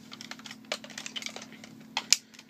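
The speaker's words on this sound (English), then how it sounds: "Clicky joints. I love clicky joints." Transformers Armada toy figure with ratcheting clicky joints being posed, giving a quick run of small, close, dry clicks and snaps at an irregular rhythm.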